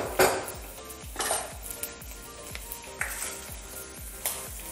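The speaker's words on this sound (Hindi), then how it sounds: "जो हरी मिर्ची हमने कट की थी वो भी डाल देंगे।" Chopped green chillies tossed into a hot pan of oil, giving a steady sizzle under repeated clinks and scrapes of a spoon against the metal pan, nearby and moderately loud.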